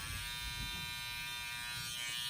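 An electric hair clipper trims a line into a high-fade haircut, giving a steady, close, loud buzzing hum that never breaks.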